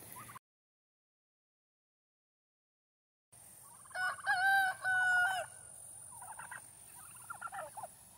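Turkeys foraging outdoors gobble in two loud bursts, and softer clucking and calling follows near the microphone after a short silent gap at the start.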